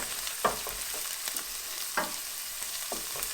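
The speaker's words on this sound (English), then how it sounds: "just give it a quick stir around, mix it in with the onions" Garlic and onions frying in oil in a pan, with a constant close sizzle broken by several sharp scrapes as the spoon stirs through.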